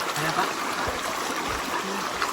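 River water flows steadily with a broad rushing wash near a mountain trail, with faint low thumps and a brief murmur of voices in the background.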